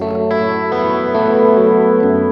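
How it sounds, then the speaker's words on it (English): A guitar plays through a large reverb and a Walrus Audio delay pedal. Sustained chords stack into a dense, shimmering wash with long echoing tails, loud and continuous with no talking. "use those larger reverb sounds in combination with the Walrus Audio delay just to get really immersive"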